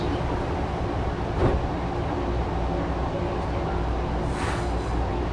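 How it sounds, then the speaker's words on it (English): A steady low rumble of the DFW Airport SkyTram departing, with continuous mechanical hum and a couple of brief clanks over the constant drone. "Quick little departure on this SkyTram."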